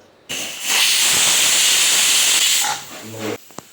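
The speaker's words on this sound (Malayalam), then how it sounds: "ഇനി രണ്ട് വിസില് അടുപ്പിച്ചെടുക്കാം വേവട്ടെ" A pressure cooker cooking ash gourd lets out a loud, sustained steam hiss with a whistling tone for about two seconds, then tapers off into sputtering and a few small clicks.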